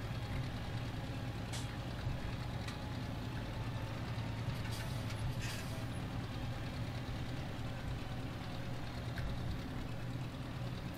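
An old tractor engine idles in Farming Simulator 17, a faint, steady low rumble that runs throughout with a few small clicks and knocks over it.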